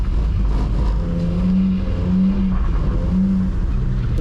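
A BMW E46 320i engine droning steadily and rising in pitch as it revs while drifting in the rain, heard from inside the car, loud and continuous.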